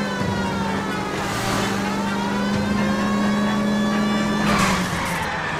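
Car driving in LA Noire: a steady engine hum holding one pitch throughout, with road and tire noise and a brief surge near the end, close and continuous with no speech.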